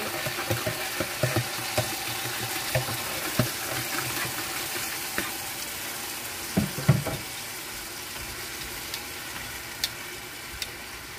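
Sauce simmers and sizzles in a pan during home cooking, a continuous soft frying hiss with scattered small pops and occasional stirring clinks, close and fairly quiet.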